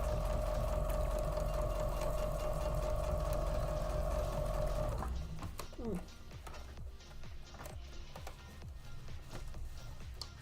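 A home sewing machine stitching through bulky quilt block seams runs with a steady loud mechanical hum, then slows into a rougher, uneven chugging as it struggles, while a person talks over it.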